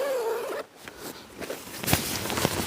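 Zips on a Decathlon MH100 three-person tent are pulled in a few short, rasping strokes at close range, with some fabric rustle between them and no talk.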